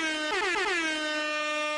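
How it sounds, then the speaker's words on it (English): A loud, blaring air horn blast from a soundboard with a sliding, descending pitch, sustained for over a second, sounding alone. "So where's my air horn?"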